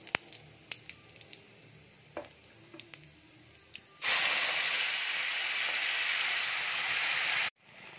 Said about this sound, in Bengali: এখানে ফুলকপির মশলাটা কষানো হচ্ছে